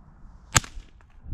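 A single sharp crack from a Savage MKII FV-SR rifle fired at a can, one brief loud report near the middle that dies away quickly into quiet outdoor background.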